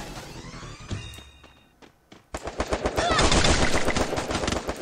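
Bursts of FAMAS rifle fire in a video game, a few separate shots early, a brief lull, then rapid, loud, dense gunfire with thuds continuing to the end.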